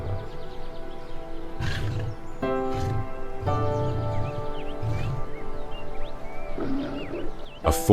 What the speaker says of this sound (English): its roar can be heard up to 5 miles away